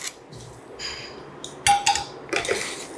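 A spoon stirs carrot and chilli pickle in a bowl, making several close clinks and scrapes against the dish that grow louder toward the end, with nobody speaking.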